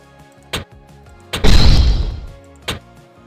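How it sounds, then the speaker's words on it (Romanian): Failed item upgrade at the blacksmith in the online game Metin2: sharp clicks, then a loud crashing smash that rings and fades over about a second, followed by another click over soft game music. "Prima a bubuit."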